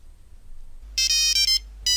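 A mobile phone ringing at night inside a school building, a loud high electronic ringtone that starts abruptly in a burst, pauses briefly, then sounds again, over a low steady hum with no talking.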